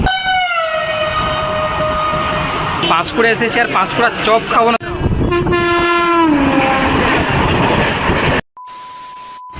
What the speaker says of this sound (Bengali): এই মুহূর্তে বন্দে ভারত ক্রস করছে